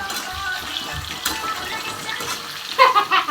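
Aloo dum, a potato curry, frying in a pan at home, giving a steady close sizzle with some stirring scrapes and watery bubbling that swell near the end.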